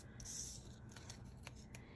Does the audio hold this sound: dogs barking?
no